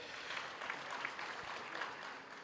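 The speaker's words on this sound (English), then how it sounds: "let's give them a round of applause" Faint, distant applause from a small group at a university graduation ceremony, a soft even patter of clapping that continues briefly at low volume.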